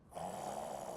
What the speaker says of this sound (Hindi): ये तो खर्राटे लेने लगी